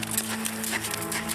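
Horses kept for care and therapy clip-clop with a steady hoof rhythm under a constant low droning hum and broad background noise.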